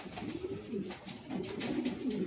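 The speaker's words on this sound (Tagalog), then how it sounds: "Ito, may kalapating bumalik dito." A racing pigeon that has returned to its loft coos in soft, low, throaty phrases, two rounded bursts close by against faint background noise.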